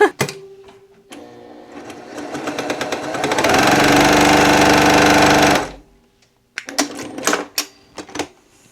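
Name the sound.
Brother PQ1600S sewing machine sewing at full speed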